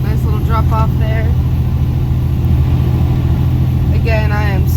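A truck loaded with 30,000 pounds of plants labours uphill, its engine a loud, steady low drone throughout, with someone talking over it in short bursts.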